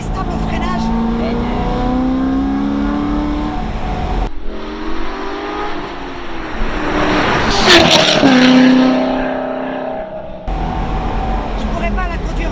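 A tuned Corvette C6 Z06 engine roars and revs hard at speed, pitch rising and falling through gear changes, with voices talking over the loud, close engine noise.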